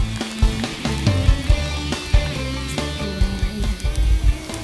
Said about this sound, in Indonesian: Goreng kerupuknya jangan sampai gosong ya.